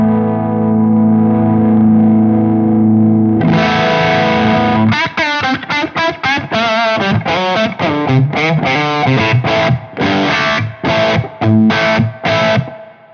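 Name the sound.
electric guitar through Synergy Z Wreck preamp, humbucker, full gain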